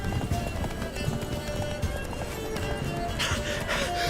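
Roach, the horse in The Witcher 3, gallops with rapid, rhythmic clip-clop hoofbeats that run close and fairly loud throughout, over a light game background.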